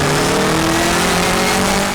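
A Mini racing car on the Gurston Down hillclimb course, engine howling hard and loud under acceleration in a steady, close, continuous roar with a straining whine.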